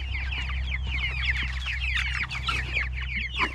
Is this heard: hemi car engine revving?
no